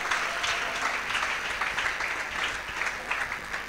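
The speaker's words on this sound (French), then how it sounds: "Acclame la parole du Seigneur." A church congregation applauds in praise after a scripture reading. The clapping is dense and steady, from many hands, and lasts the full few seconds without a break.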